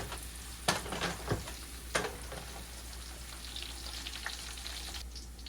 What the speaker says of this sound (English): So I'm frying my onions.